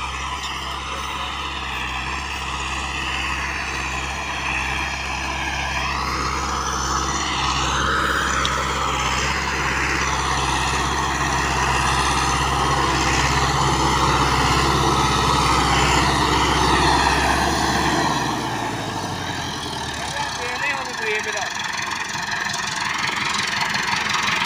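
A Massey Ferguson 385 tractor pulling a 9-tine chisel drones loudly and steadily under load, its engine note wavering slightly before dropping away near the end.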